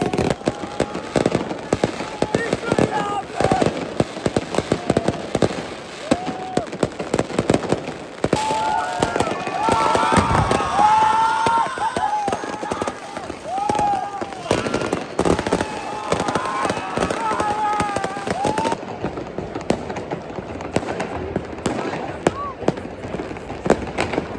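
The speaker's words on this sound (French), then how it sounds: "Il y a des feux d'artifice de partout" Unauthorized New Year's fireworks in Milan burst and crackle all around, a dense, loud, nonstop barrage of bangs and pops close by, with people talking over them throughout.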